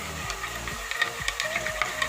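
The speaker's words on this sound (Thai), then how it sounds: "นี่ค่ะคน" A spoon stirs coffee in a cup, giving a run of light, repeated clinks and scrapes at close range with a steady rhythm and no talk.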